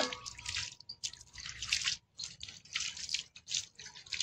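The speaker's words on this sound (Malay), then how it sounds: "Basahkan keseluruhan barangan tembaga ni dengan air." Copper items being wetted down with water, giving a close run of splashing and dripping in uneven bursts with brief pauses between pours.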